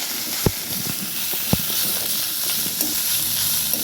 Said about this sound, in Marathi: आपण आता भाजी टाकून घेऊया. सर्व मिक्स करून घ्यायचे छान असं.